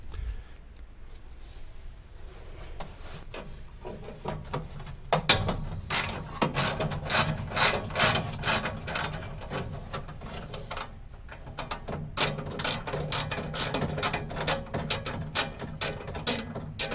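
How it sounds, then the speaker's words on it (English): A ratchet fitted with a 7mm socket turns out the burner injector on a Fulgor Milano Sofia 36-inch gas range, starting with a few scattered clicks and then settling into long runs of quick, close ratcheting clicks. "we're probably better off using a 7mm socket here to get at that one"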